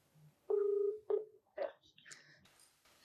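A telephone number is dialed on a keypad, giving a quick series of close, clean beeping tones of varying pitch, followed by a brief electronic line sound.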